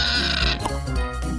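In a farm animal puzzle video game, a cartoon pig gives a short grunting oink over steady background music, loud and close.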